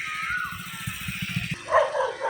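A dog on a road during scooter riding practice gives a quick run of yapping barks, close and fairly loud, then breaks off into mixed outdoor noise.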